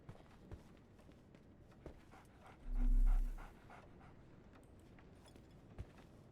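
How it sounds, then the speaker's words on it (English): A dog pants and shuffles about in Sherlock Holmes The Awakened, soft, fast breathing with a few light thumps over a low ambient game background, plus one brief swelling hum in the middle. "So, Barnes has a dog now."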